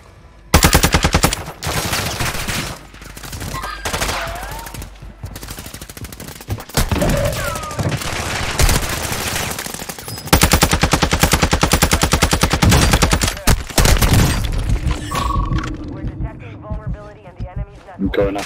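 Call of Duty Warzone 2 gunfire on Ashika Island in Resurgence mode, loud rapid automatic bursts nearly continuous across the scene, with players talking over the shooting.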